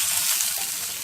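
Green chilies, curry leaves, grated ginger and a pinch of asafoetida fry in hot oil, giving a steady, close, bright sizzle with faint crackles throughout.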